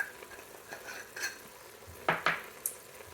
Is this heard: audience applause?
no